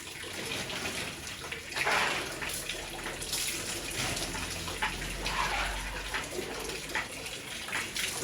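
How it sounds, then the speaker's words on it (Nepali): Cut onions being washed in water in a home kitchen, a steady close splashing and running-water wash that continues for several seconds with no talk. "यो पानीमा पखाल्छु नि"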